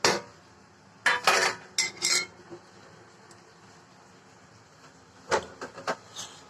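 Potato pieces drop into a cooking pot in two bursts of clattering knocks and scrapes, separated by a quiet stretch over a low background hum.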